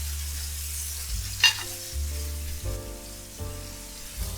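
Food searing in a hot pan, with a steady close-up sizzle and faint crackle over a low background hum, broken by a brief scrape near the middle.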